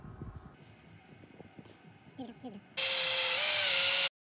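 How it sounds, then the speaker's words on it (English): A power drill drives 3-inch screws into wood, whining steadily for about a second near the end, loud and close, after quieter workshop shuffling and brief tool sounds. "Now we're going to drill 3-inch screws."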